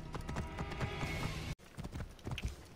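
Horse hooves clip-clop in a fast, steady rhythm while riding in the video game Assassin's Creed Origins, loud and close, with a brief cut to silence partway through.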